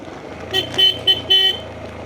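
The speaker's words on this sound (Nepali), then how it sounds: "हर्न बजाउनु पर्यो" Short bus horn toots sound in a quick series of three or four honks over a low engine rumble, on a mountain road from Surkhet to Kalikot.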